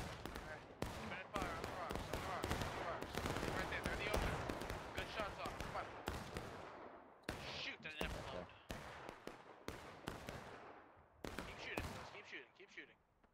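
Muskets fire raggedly along an infantry line in the Civil War game War of Rights, sharp overlapping cracks in a dense volley that thins into scattered later shots, with shouted voices around them.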